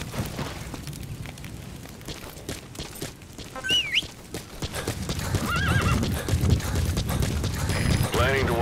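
In a video game, a horse's hooves clip-clop at a steady gallop beneath rumbling ambient noise, and two shrill whinnies rise out of the mix near the end.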